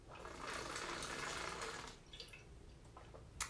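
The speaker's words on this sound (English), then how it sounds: "It's a very loud water bottle" A loud water bottle is handled and drunk from, giving a sustained gurgling, sloshing rush for about two seconds, then quieter liquid movement and a sharp click at the end, close by.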